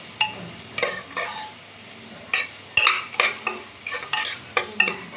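Food sautés until brown in a pan, with repeated scraping stirs of a utensil against the metal over a steady sizzle and no voices.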